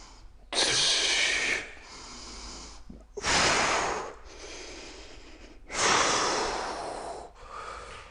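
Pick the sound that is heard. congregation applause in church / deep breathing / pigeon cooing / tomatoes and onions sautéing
deep breathing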